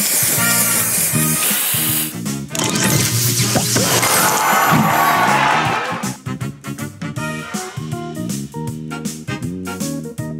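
Spray booster effect from the Match Masters puzzle game, a loud hissing spray burst over upbeat game music, then rapid clicking and popping tile effects with the music continuing.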